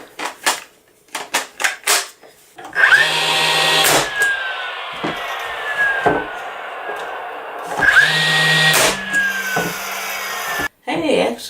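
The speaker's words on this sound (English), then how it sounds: "And then I want to pop some brads in here." A brad nailer fires brads into wood while a cooktop cover board is assembled, giving sharp single shots spaced a few seconds apart over a steady compressor-like hum, with brief knocks at the start.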